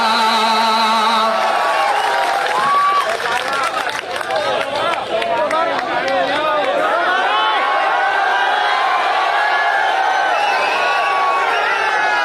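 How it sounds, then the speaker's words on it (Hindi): Audience at a poetry recital in Bhopal bursts into sustained applause with cheering and whoops, a dense, loud crowd roar filling the whole stretch without pause. "मुझे लगता है कि अभी ये तालियां भोपाल तक है, इन्हें पूरे हिंदुस्तान में जाना चाहिए"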